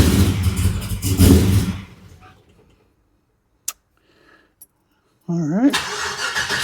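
After talk and a near-silent pause, a 5.3 LS V8 swapped into a Dodge Dakota with a Motion Raceworks throttle body cranks and catches, its pitch climbing sharply as it fires up close by.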